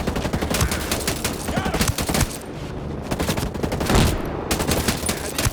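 Rapid bursts of automatic gunfire and overlapping shots fill a Ghost Recon Breakpoint firefight, loud and close, with brief lulls between volleys.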